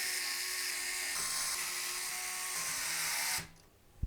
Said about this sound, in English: So I think what I'm going to do is I'm going to put a few of these screws in.